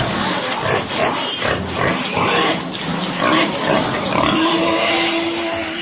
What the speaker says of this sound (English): 2 pigs die in a fight